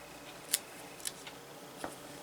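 Scissors snip a chunk out of a diamond art canvas, giving two or three sharp, crisp close-up cuts spaced apart against quiet room tone.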